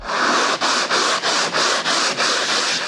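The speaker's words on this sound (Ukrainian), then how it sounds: "Можемо взяти трошки на колодочці і побачити, як вона у нас буде шліфуватись" Rhythmic sanding of car body filler with a hand block: about eight close, raspy back-and-forth strokes with brief pauses between them.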